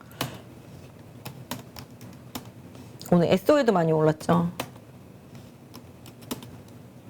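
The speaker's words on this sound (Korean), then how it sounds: "타자를 왜 이렇게 못 치는 거죠?" Computer keyboard typing in a Korean stock-market broadcast studio: scattered, sharp key clicks spread across the clip, briefly overlapped by a person talking in the middle.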